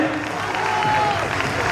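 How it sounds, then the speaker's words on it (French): Audience applause and some crowd noise at a national calisthenics championship, a short burst of clapping at steady level with a voice and faint whistle-like tones mixed in. "on peut l'applaudir"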